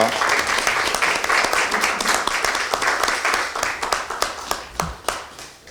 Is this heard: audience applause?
yes